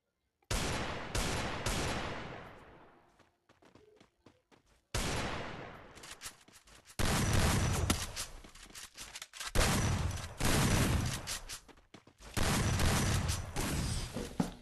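Gunfire in the Free Fire battle game: loud bursts of rapid shots, each decaying with a ringing tail, separated by short pauses and ending in several heavy volleys, with no voices.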